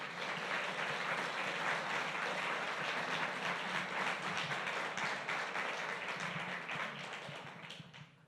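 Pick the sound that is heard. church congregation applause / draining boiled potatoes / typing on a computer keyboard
church congregation applause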